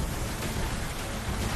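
Heavy torrential rain pours down in Moradabad, a dense, loud, unbroken roar of water hitting surfaces with no gaps or voices.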